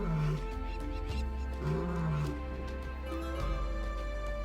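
A lion roars in Akagera National Park, a protected wetland in Central Africa, giving a few deep, close, grunting roars in a rhythmic series with no talk.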